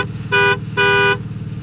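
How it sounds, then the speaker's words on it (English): Kart horn honking in the Roblox video game, two distinct tonal beeps in quick succession over a low engine hum. "Honk the horn while we're at it."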